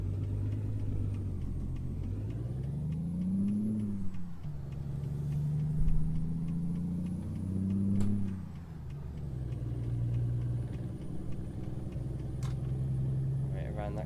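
A Freightliner Classic XL truck with a 600 brake horsepower engine hauls a 40-ton load in American Truck Simulator, its steady low engine drone rising and falling with the throttle while someone talks over it.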